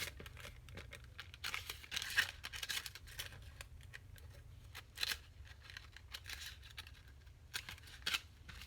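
Paper being cut with scissors while making a handmade craft journal: repeated short snips and crinkles at moderate volume, with a few sharper cuts spread through a quiet room, no talking.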